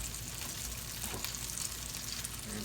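Buttermilk-battered chicken frying in oil in a skillet, a dense steady crackling sizzle that fills the whole stretch, close and even.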